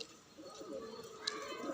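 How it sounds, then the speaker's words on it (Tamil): Soft, distant cooing of pigeons in an outdoor loft area, faint and mixed with a steady background wash and occasional chirps. "அதில் நிறையா புறா இருக்குது"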